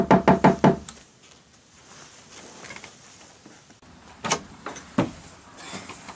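A fist raps a door in a quick burst of four loud knocks, followed after a pause by a few scattered thumps and handling sounds nearby.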